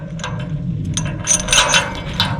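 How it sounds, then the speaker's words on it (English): A heavy duty bike lock being locked, a close series of quick metallic ratcheting clicks and rattles in an uneven rhythm, fairly loud over a low background hum. "So that's the final lock on the super lock"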